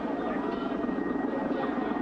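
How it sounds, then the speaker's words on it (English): A cartoon airplane landing effect, a steady droning engine roar with a fluttering propeller-like texture, holds at an even, moderate level throughout with no break. "The plane just landed."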